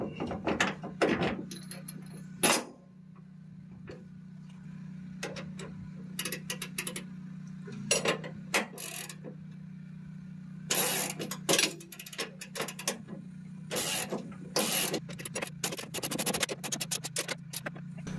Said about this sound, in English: I'm using a combination of one jack and then the other to adjust for height and then for pitch